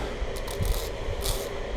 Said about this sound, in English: I'm going to just take my sanding stick